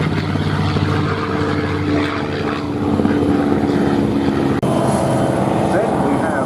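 A North American T-51B Mustang warbird on its takeoff roll at an airshow gives a continuous propeller-engine roar with a steady drone, while a commentator talks over it.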